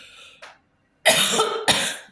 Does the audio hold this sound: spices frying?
no